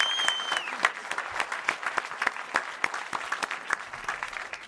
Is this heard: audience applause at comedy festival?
yes